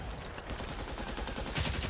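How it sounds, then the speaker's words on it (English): A Sherman tank fires a shell on a city street and it strikes a building: a rapid, rattling string of sharp reports rolls on continuously, then swells louder at the end. "The Sherman fires, and the shell strikes a building at the end of the street."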